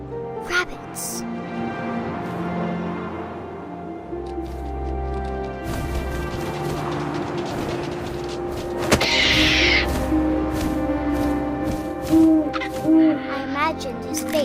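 Owl hoots in the video game What Remains of Edith Finch, repeated calls against ambient night sounds and wind, with a narrating voice speaking over them.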